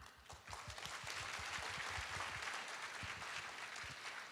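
Applause from a crowd, steady clapping throughout, somewhat distant and moderately quiet.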